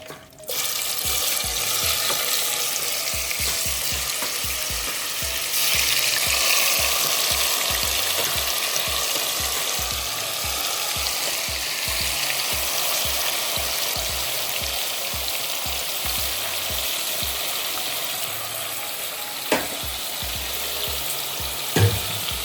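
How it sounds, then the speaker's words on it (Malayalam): A second batch frying in hot oil for Thalassery dum biryani gives a steady, dense sizzle that holds loud and even for the whole stretch, with a few soft clinks and a brief sharp tap near the end. "ഇനി സെക്കൻഡ് ട്രിപ്പ് നമുക്ക് പൊരിച്ചെടുക്കാം"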